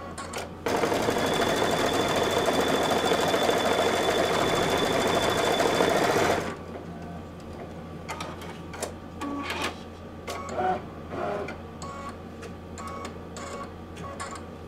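An embroidery machine stitches lettering on a Christmas nativity ornament, a loud, steady mechanical whir for about six seconds before stopping abruptly, followed by quieter scattered clicks and small handling noises.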